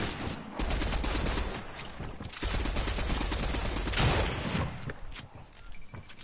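Rapid bursts of submachine-gun fire in the video game Fortnite, loud and dense, crackling almost continuously for several seconds with a brief pause near the middle.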